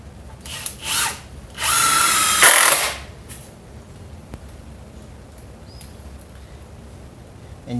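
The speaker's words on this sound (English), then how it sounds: "And then you can put the rest of the screws in." Power drill driving screws into wooden bed bases for an aquaponics greenhouse, heard as a few short bursts and then one longer whirring run, fairly close and alone without talk.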